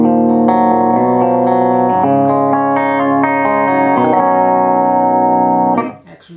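Electric guitar through a Zoom G2.1u multi-effects pedal on a clean amp model with EQ, bass raised, mids added and treble cut: loud, sustained chords that change every second or so, then fade out near the end, with no talk.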